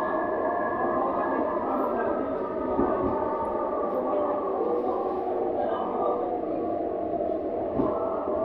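A Kolkata Orange Line metro train runs on the New Garia to Ruby route, giving a continuous droning rumble with a steady tonal whine from inside the carriage and faint background voices.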